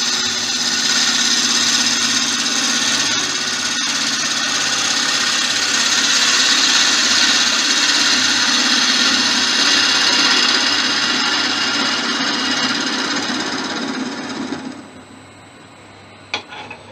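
Acacia blank spinning on a wood lathe while being flattened off, giving a steady, loud continuous whirring roar with tool contact noise for about fourteen seconds before dying down near the end.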